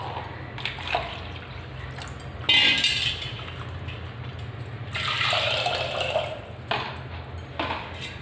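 Water is poured into homemade yogurt for a summer drink, a few short splashing pours with light clinks of a vessel and spoon, fairly close and without talk.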